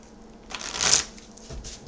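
Oracle cards are shuffled once in a short, crisp riffle of paper flicks, close and fairly loud against a quiet background.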